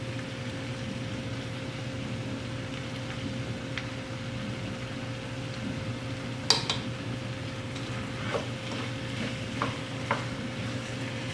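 A spoon stirs French onion and potato soup in a pot, a soft steady scrape and swish under a constant low hum, with a few sharper clinks against the pot later on.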